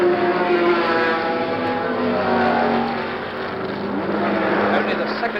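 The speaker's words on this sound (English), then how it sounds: "Jackie Stewart, on his last lap, coming round for the checkered flag." A Lola T260 Can-Am race car finishes its last lap at Mid-Ohio in 1971, its engine giving a loud sustained roar that eases slightly midway and then builds again, with a broadcast commentator's voice mixed in.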